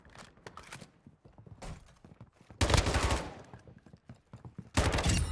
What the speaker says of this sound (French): On tue les bots là, Alexis.